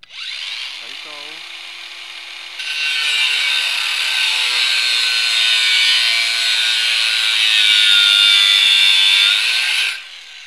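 A handheld angle grinder cuts with a sustained, high-pitched whine that spins up, holds steady and loud for several seconds, then winds down abruptly.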